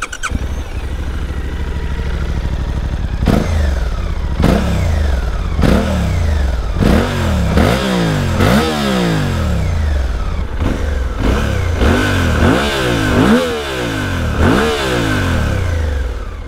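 Suzuki V-Strom 800DE motorcycle with its twin-cylinder engine, starting up and then revving repeatedly in sharp rising and falling bursts that grow more frequent, loud and close, with no voices over it.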